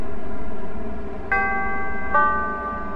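Two bright electronic door-closing chime tones on a Roblox CTA Orange Line train at Halsted ring out a second apart, each sustaining over a steady background hum.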